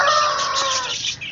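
Young chicks hatched at home, kept with larger hens and eating millet, chirp and cluck in a brief, close, high-pitched burst with no talk over it.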